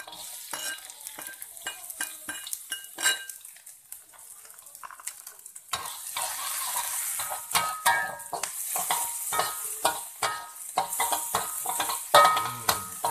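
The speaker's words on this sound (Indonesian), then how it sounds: "Kita tumiskan ini dulu. Bawang merah, bawang putih," Shallots, garlic, bird's eye chili and tomato sauté in hot oil, with a steady sizzle and the repeated clink and scrape of a spatula stirring in a pan.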